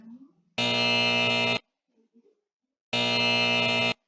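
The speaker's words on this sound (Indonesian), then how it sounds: "ketika anak-anak salah mengklik huruf, maka akan bunyi kata tetot." An educational letter-clicking game plays its wrong-answer buzzer twice, each a loud, harsh one-second electronic blare separated by silence, with a faint voice at the start.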